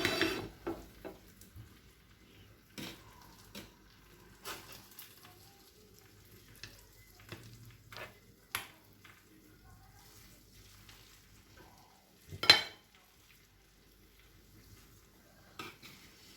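A spoon scraping and clinking in a pan as Spanish paella is served, giving scattered quiet taps and scrapes with long pauses and one louder clatter near the end.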